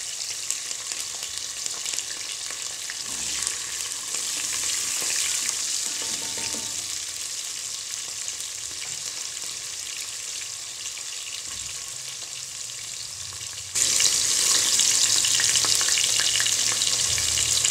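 Mustard seeds, cumin and onion sizzle loudly and steadily in hot oil for a sambar rice dish, a dense crackling hiss heard up close. It grows sharper and louder near the end, and no one talks.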